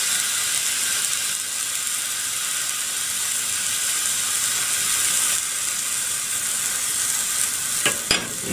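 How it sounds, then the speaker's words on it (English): Square sausage frying in a small oiled non-stick pan, giving a constant close sizzling hiss throughout, with a couple of brief clicks near the end. "You can probably hear the bit of sausage there cooking slightly."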